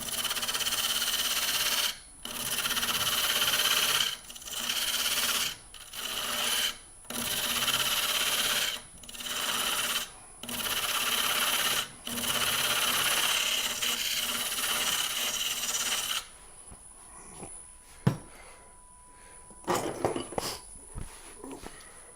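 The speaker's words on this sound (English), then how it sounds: "That squealing sound is because I'm hung over the tool rest." A wood turning tool on a lathe, hung over the tool rest, gives repeated squealing scraping bursts in an even rhythm, each separated by a short gap, before the cutting stops and only faint clicks and thumps remain.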